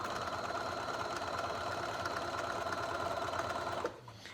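Sewing machine stitching pajama pants, a steady, close, rapid mechanical whir and needle clatter that runs evenly and then stops abruptly near the end.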